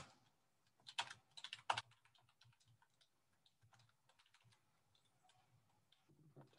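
Quiet typing on a computer keyboard during a calculus lecture: a burst of sharper key clicks early on, then a steady patter of soft, close taps.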